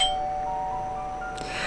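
A doorbell rings in an indie horror video game, a clear sustained chime with steady ringing tones that last through the clip, then a brighter burst near the end over a faint background hum.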